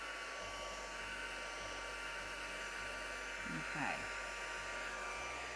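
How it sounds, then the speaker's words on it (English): A heat gun blows a steady broadband airflow rush that runs throughout, loud and constant, with a brief swell near the end and a single short spoken word over it. "Let's get our heat gun out, and this should be quite dramatic."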